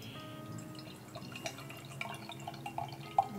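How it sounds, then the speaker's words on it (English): Brut IPA beer is poured from a bottle into a tulip glass, giving a faint, steady trickle with small drips and fizzing bubbles, quiet and close. "Pouring into my Rouge River Fat Tulip style glass."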